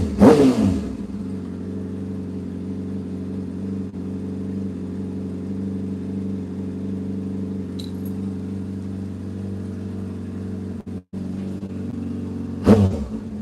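A motorcycle engine running steadily at a low, even idle throughout, loud and near, with short bursts of noise at the start and the end.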